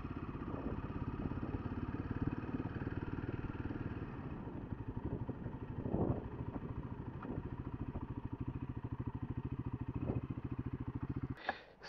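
A Royal Enfield Himalayan 450 motorcycle runs nearby with a steady, even engine thrum and rapid regular pulses that continue until a sudden knock at the end.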